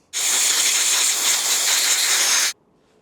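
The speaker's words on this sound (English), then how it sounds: "I'm going to clean this up with some brake cleaner" Brake cleaner sprays from an aerosol can onto a part of a Range Rover L322 under accident repair, one steady loud hiss of about two and a half seconds that cuts off sharply into quiet.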